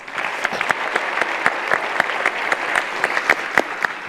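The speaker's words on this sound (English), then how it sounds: "Let's applaud that, please." Graduation ceremony audience at a university congregation claps steadily, a loud, continuous wash of applause with a few sharper individual claps standing out near the front.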